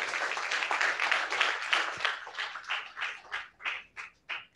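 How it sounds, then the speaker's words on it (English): Round of applause for two presenters at the close of an online Behaviour Change program session: dense, steady clapping that thins into a handful of separate, distinct claps as it dies away. "I hope you could hear that round of applause."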